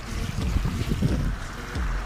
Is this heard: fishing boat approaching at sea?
yes